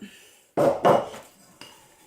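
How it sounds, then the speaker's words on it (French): A plastic pastry scraper scrapes around a salad bowl in two loud, close scrapes, then a fainter scrape trails off into quiet. "Ça permet de bien racler le saladier."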